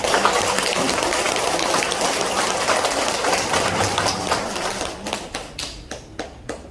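A New Year gathering at a company lecture applauds for an absent chairman, a dense sustained clatter of many hands that breaks up after about five seconds into a handful of separate, fading claps.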